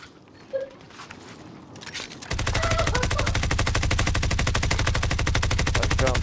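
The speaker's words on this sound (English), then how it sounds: "I'm being shot at from another direction." Sustained automatic gunfire in the Warzone video game starts after a couple of quieter seconds and then rattles continuously in rapid, evenly spaced bursts, loud and close.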